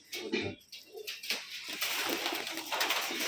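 Pigeons coo at a pigeon farm in Rajshahi, several soft throaty calls overlapping near the listener, with occasional brief rustles between the repeated cooing phrases.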